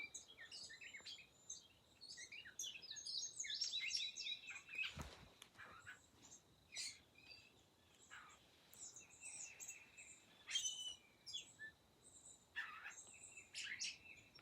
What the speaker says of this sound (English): listen to these birds out here